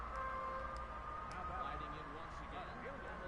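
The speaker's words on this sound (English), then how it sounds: "sirens going on outside." Emergency sirens wailing faintly in the distance outside, their rising and falling tones drifting beneath a nearby voice talking during a baseball video game.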